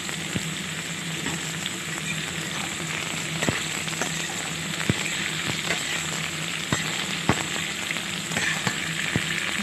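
Pieces of bottle gourd fry in hot oil alongside potato pieces, making a steady crackling sizzle with frequent small pops and spatters, close and moderately loud, with no talking.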